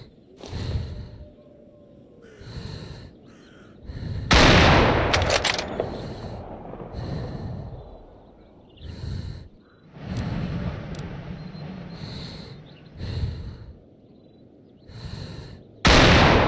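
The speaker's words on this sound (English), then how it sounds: "The first one is the Macmillan TAC-50, which uses a 50 cal BMG round." A Macmillan TAC-50 .50 BMG sniper rifle fires in the Stalker Zona mod video game, several heavy booming shots spaced a few seconds apart, each followed by a rolling echo tail.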